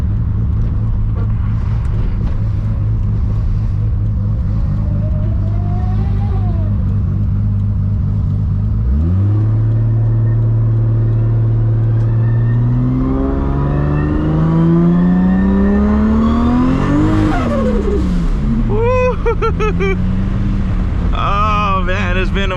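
Engine of a 1000+ horsepower Toyota Supra MK4 running on high-ethanol fuel drones steadily from inside the car, then roars loud and near through rising acceleration pulls with gear changes, ending in sharp, high-pitched revving.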